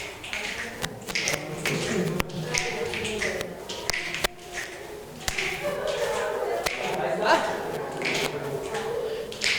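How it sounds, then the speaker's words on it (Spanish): A group snaps fingers in time with rhythmic hand movements during a Spanish-language radio workshop: sharp, evenly spaced snaps and taps sound close by, with people talking underneath. "Ahora ahí le agregamos un chasquido."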